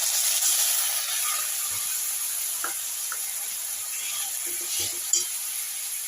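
Ground onion paste sizzles and spits in a hot pan of oil while cooking a jackfruit curry, a continuous close frying hiss with a few light clinks and stirring sounds and no voices.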